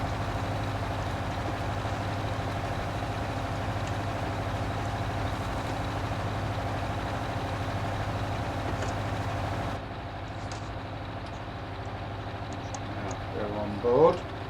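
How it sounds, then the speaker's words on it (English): A tractor engine in Farming Simulator 19 runs steadily with a low idling drone throughout, its tone shifting about two-thirds of the way in, with a brief louder burst near the end. "And this tractor will come here so you can see it working."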